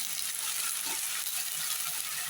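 Drumstick leaves frying in a pan, giving a steady, close, even sizzle with soft stirring scrapes throughout and no talking.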